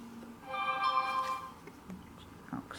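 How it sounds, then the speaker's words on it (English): A phone ringtone plays a short tonal melody for about a second, moderately loud indoors, followed by quiet room noise and faint stirring. "Oh, excuse my phone."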